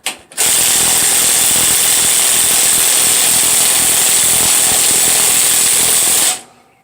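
A socket ratchet works a gas tank bolt on a Craftsman YT3000 riding mower, giving a loud, close, continuous whirring ratchet burst of about six seconds that cuts off abruptly.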